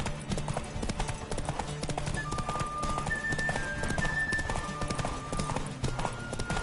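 Galloping horse hooves in The Witcher 3 video game, a fast rhythmic clip-clop close up under music, with a brief whinny in the middle.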